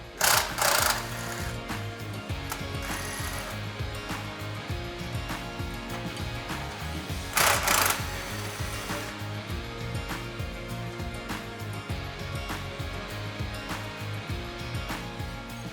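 Bolts being removed from the top of a PVP double disc pump's discharge housing into the intermediate housing, heard as a steady mechanical whirring and ratcheting from a tool, with two loud bursts, alone without talk.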